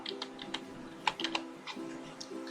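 Light, irregular keystrokes on a computer keyboard while changing Windows 10 language settings, a scattering of soft, close clicks with short pauses between them and a faint background hum.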